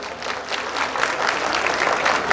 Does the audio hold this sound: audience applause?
yes